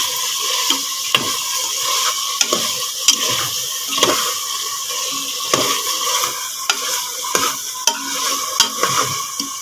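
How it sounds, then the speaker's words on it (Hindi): Chicken feet stirred and frying in masala in a pan: a steady, close sizzle broken by regular scraping strokes of the spoon, with no voices. "इसको अच्छे से हम हिलाएंगे, इसको भूनेंगे, इसी मसाले में इसको अच्छे से फ्राई करेंगे।"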